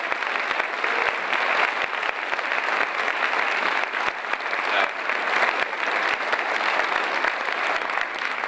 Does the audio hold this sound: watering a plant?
no